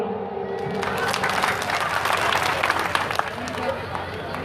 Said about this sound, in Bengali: তাড়াতাড়ি একটু হাততালি দিন